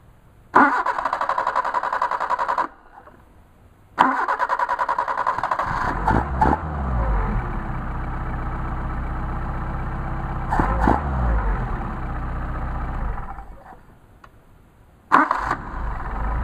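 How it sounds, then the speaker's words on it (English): A warm engine fitted with Solex carburetors is cranked and starts on a hot start, with loud cranking bursts that catch into a running engine, which revs and then settles, close by and with no talk. "Alright, let me turn it off. Try a hot start."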